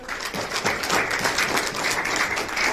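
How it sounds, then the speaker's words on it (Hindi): Scattered audience applause at a business plan presentation, a modest crowd clapping unevenly in a room for a few seconds, at moderate loudness. "तालियां होनी चाहिए सर"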